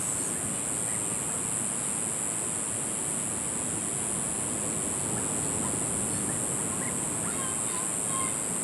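Steady, dense wash of ocean surf on a Costa Rica shore fills the whole stretch, loud and unbroken with no distinct wave breaks, alone without voices.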